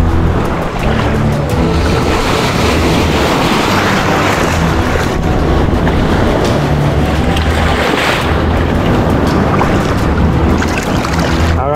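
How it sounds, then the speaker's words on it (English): Sea waves breaking against rocks in the shallows off the Greek island of Ios, a loud, continuous roar of surf and splashing water with gusting wind and no voices. "these rocks with the waves breaking right here"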